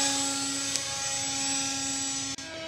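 A model Extra 300 airplane climbs under power, its engine a steady, sustained high whine. A short click and a sudden brief dip come near the end.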